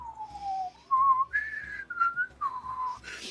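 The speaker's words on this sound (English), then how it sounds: "atonal whistling" Dissonant, atonal whistling drifts between unsteady pitches in several separate phrases, fairly close and clear, over a faint low rumble, with no voices.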